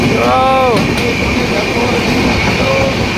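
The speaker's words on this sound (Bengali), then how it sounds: "ট্রেন খুব স্পিডে চলছে একদম একদম দ্রুত গতিতে ট্রেন চলছে একদম ফুল স্পিড" A passenger train runs at full speed past Liluya, heard from inside the carriage as a loud, steady rumble and roar that continues throughout, with a brief screech early on.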